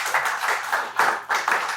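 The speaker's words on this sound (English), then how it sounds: "Dr. Hassan Mago, please give him a round of applause." Brief, light audience clapping at a sensitization workshop on Nigeria's rebased GDP and CPI, coming in a few quiet, uneven bursts from a small group.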